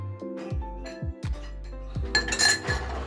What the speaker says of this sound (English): Now I'm gonna go and grab my glass from the freezer.